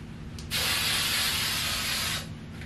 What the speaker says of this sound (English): I'm gonna put some hairspray.